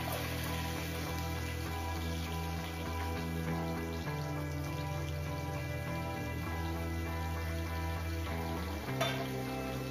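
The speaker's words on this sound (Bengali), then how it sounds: "হালকা একটু ভেজে নেবো।" Green chili and chopped onion frying in a pan at home, a steady close sizzle with soft stirring scrapes and a brief clatter near the end, over a constant hum.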